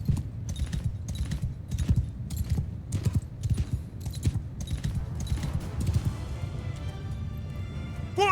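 Repeated hoof clip-clops from a horse in the medieval battle game Mount & Blade II: Bannerlord, a steady rhythm of moderately close hoofbeats over a busy low battlefield rumble, ending in a few sharper metallic clanks.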